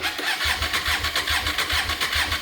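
A Hyosung motorcycle engine cranks without firing because there is no spark, a rhythmic, evenly pulsing starter churn repeating steadily throughout at close range.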